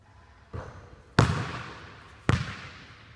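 A basketball shot drops through the net with a swish, set among sharp ball impacts: a soft thump, then two loud slaps about a second apart, each fading away in a quiet gym-like space.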